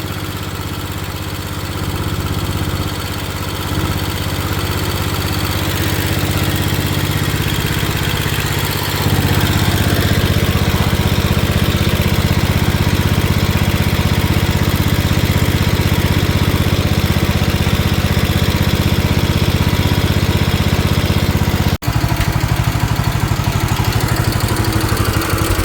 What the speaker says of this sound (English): got a good running engine